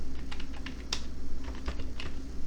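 Typing on a computer keyboard, a string of quick, light key clicks in an uneven rhythm with one sharper tap, close by over a low steady hum.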